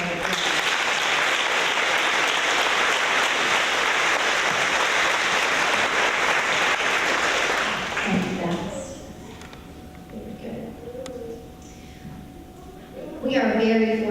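Audience at a fourth-grade awards event claps for student award winners, dense applause lasting about eight seconds before fading to scattered claps and then a quiet room with some talking and brief noise.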